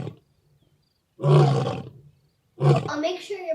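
Two loud lion roars from a stage play's sound effects, each a single drawn-out growling bellow separated by a short pause, close and clear with no talk over them.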